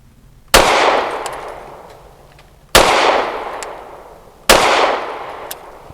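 A Canik METE MC9L pistol fires PPU ammunition at an outdoor range with a berm: three loud, sharp shots, spaced about two seconds apart, each followed by a long fading echo.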